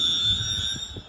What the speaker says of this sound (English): Train now coming past now